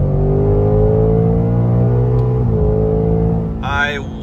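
A 2024 Mustang GT accelerates hard during a street race against a Stage 1 MK8 GTI, its engine note droning steadily and loud from inside the car before a brief shift near the end.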